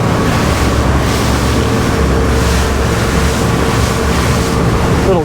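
A SACS 42 powerboat runs steadily through ocean swell, its engine drone blended with a constant rush of water and heavy wind buffeting, loud and unbroken throughout.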